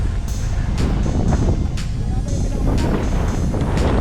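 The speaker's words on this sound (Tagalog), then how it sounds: "Ang lakas ng hangin." Strong wind buffets the microphone in a steady, loud roar at Bongabon Bike Park during an enduro event, with muffled voices and a passing vehicle rumble underneath.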